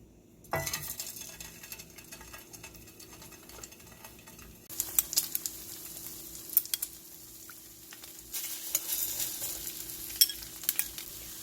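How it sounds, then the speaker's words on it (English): Egg-dipped Spam kimbap pieces fry in olive oil in a pan, giving a steady close sizzle that jumps in intensity partway through, with occasional light scrapes and taps of a utensil. "Now take your kimbap and drench them in your whisked eggs and add them to the pan."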